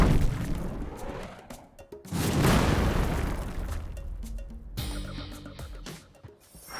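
Booming cannon fire in Sand Land from a tank-mounted cannon, with heavy explosions and blasts rolling loud and close, one after another, amid battle noise.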